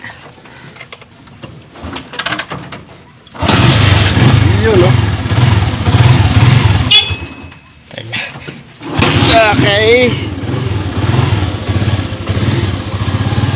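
After some quiet handling and brief speech, a motorcycle engine starts and runs at a loud idle, cuts out momentarily, then restarts and keeps idling.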